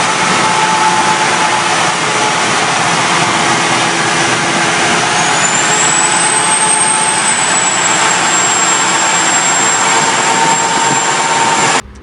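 A truck's new Detroit diesel engine being broken in on a dyno, a loud, steady, unbroken roar holding for about twelve seconds, with a high whine rising partway through and cutting off abruptly at the end.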